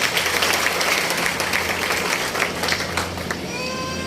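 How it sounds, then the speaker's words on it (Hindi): An indoor audience applauds to welcome a speaker to the mic, a steady patter of clapping hands from a moderate-sized crowd, held evenly for a few seconds before thinning out, with a low electrical hum beneath. "बहुत जोरदार तालियों के साथ"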